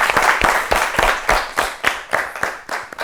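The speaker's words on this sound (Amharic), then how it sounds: "አጨብጭቡላት።" An audience claps in regular bursts for a contestant on a children's quiz show, the applause fairly close and steady throughout with no talking over it.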